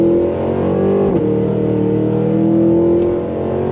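A 2023 Cadillac Escalade V under throttle, its engine accelerating with a loud, steady, rising roar and a brief shift in pitch partway through, heard close from inside the cabin.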